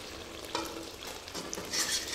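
Chicken curry with potatoes sautés in a pan, sounding as a short run of soft sizzling broken by a few scraping stirs of a spatula, close and fairly quiet, with no voices.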